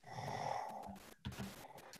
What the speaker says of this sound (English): You're sleeping. I hear you snoring.